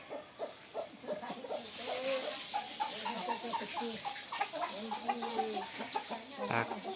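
Chickens cluck and murmur continuously while being fed tiwul in a rural yard, a busy overlapping flock sound at moderate distance.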